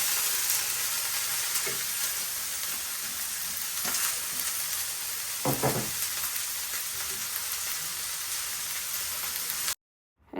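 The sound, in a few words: frying and stirring vegetable bhaji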